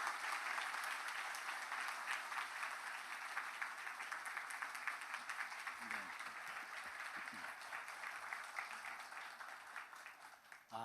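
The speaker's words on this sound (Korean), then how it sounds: "박수를 오랫동안 길게 해주시네" A church congregation at a Sunday worship service claps at length to welcome a pastor, a dense, sustained applause that stays steady throughout, with a faint voice briefly heard beneath it.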